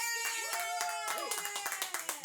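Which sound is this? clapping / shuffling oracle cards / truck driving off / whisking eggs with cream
clapping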